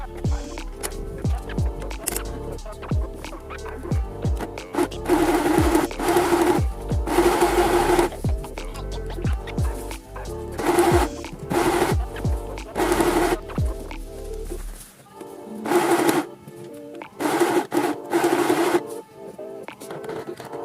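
A sewing machine straight-stitches a leather trouser pocket in close, loud bursts of rapid stitching, separated by short pauses as the piece is guided around.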